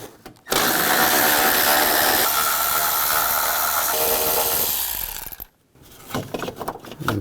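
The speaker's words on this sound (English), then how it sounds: "Use a 10mm socket and take those out." Power tool driving a 10mm socket to remove bolts and nuts from a plate on a 2009-17 Chevy Traverse engine, a loud steady whirring run of about five seconds, followed by a brief pause and softer clicks and handling.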